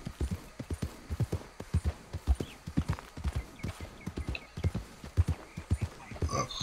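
Horse hooves gallop in Red Dead Redemption 2 through swampy gator territory, a fast, steady clip-clop rhythm that stays loud and close throughout.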